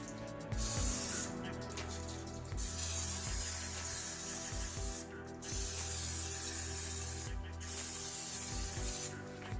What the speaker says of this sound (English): Carb-free butter flavored cooking spray.